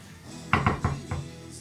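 Medium-sized tomatoes tipped into a pan for mutton biryani land with four quick clattering knocks against the metal, close and fairly loud, with no talking.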